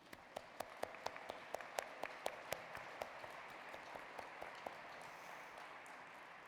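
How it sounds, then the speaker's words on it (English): Applause at a graduate school commencement ceremony, with a few sharp, close individual claps standing out in a quick irregular rhythm over softer, more distant clapping that gradually thins and fades. "Let's applaud, please."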